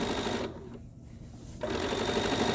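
A sewing machine stitches a sleeve with a close, steady mechanical whir that pauses briefly in the middle and then resumes at full speed.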